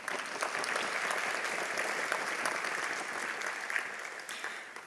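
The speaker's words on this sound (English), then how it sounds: "One more round of applause for him." Sustained audience applause at an arangetram classical Indian dance performance, a dense, steady clapping from a full hall lasting throughout without speech.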